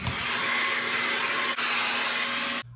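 A hot blow dryer drying braided hair roars loud and steady at close range, with a brief dip midway, then cuts off abruptly near the end.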